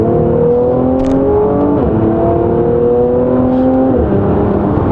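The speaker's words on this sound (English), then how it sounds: "This C43 has that performance exhaust option." A 2019 Mercedes-AMG C43 coupe with the performance exhaust revs loudly and up close, its exhaust note rising and falling through several pulls with a brief crackle.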